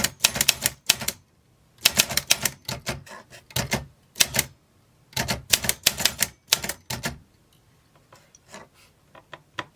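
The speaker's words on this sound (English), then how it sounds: "I am typing out some lyrics" Manual typewriter whose ribbon fails to spin, keys struck in quick bursts of close, crisp clacks separated by short pauses, then sparser single taps at the end; no voices.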